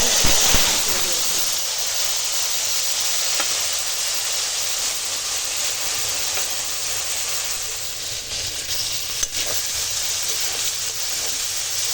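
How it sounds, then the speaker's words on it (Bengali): Continuous loud hissing and crackling of eggplant frying in hot oil in a wok, steady throughout with a few small pops. "আগে বেগুনটা ভেজে নেব"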